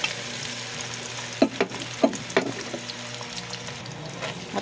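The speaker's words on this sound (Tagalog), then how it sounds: "Hotdog muna, kailangan natin pretohin." Hotdogs fry in hot oil in a pan on an electric stove while being prepared for menudo, giving a soft, steady sizzle broken by a few sharp clinks and scrapes of a utensil close by.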